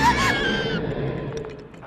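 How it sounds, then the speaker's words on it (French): A loud dragon-like scream from an animated show, a harsh, shrill cry near the start that gives way to rumbling noise and scattered clatter. "Ça, c'est le genre de cri qu'un dragon pourrait bien venir vous hurler dans les oreilles"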